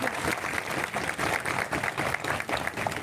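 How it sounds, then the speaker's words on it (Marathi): A crowd at a fiery political speech breaks into sustained applause, a dense, even wash of clapping with no voices standing out. "आलेल्यांसाठी एकदा प्रचंड टाळ्या झाल्या पाहिजे"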